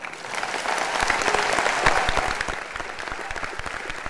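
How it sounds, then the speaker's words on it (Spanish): Warm applause at a climate conference for Australia's announcement on the Kyoto Protocol, a full room of clapping with sharp individual claps standing out against a dense, steady roar. "Aplausos calurosos para Australia"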